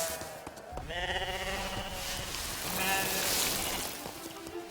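Several sheep bleat in repeated overlapping calls on a farm in China, loud and close, with a steady wash of background noise beneath.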